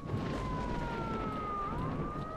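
A wailing alarm siren in the video game S.T.A.L.K.E.R.: Shadow of Chernobyl: a steady rising and falling tone that holds through the whole stretch over a dense rumbling background, with no talk.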